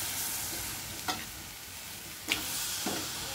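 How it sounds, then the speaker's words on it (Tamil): Chicken with chicken masala frying in oil, a steady soft sizzle running throughout, broken by a few quick clacks of a spoon or spatula against the pan. "நல்லா ஆயிலில் கொஞ்சம் ஃப்ரை ஆகட்டும். இப்போ நம்ம சிக்கன் ஆட் பண்ணிக்கலாம்."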